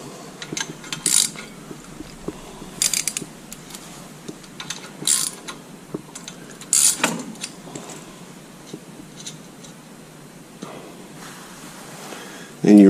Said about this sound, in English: Run your set screws in until you feel them touch the lift arm